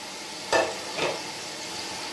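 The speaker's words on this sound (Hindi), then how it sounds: "अब इसमें मैं चिकन डालकर इसको अच्छी तरह 3-4 मिनट भूनूंगी" Chicken sizzles as it is stirred and fried in masala in a pot for murgh pulao, a steady close crackle with a few soft scraping stir strokes.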